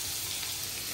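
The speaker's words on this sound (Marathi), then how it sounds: "मटकीच्या उसळची फोडणी" Tempering for a sprouted moth bean curry sizzles in a pan during Diwali cooking, a steady close hiss that fills the whole short moment with no break.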